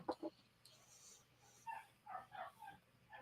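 Puppies and a dog bark and yip upstairs, muffled and somewhat distant, in a few short bursts scattered through a quiet room.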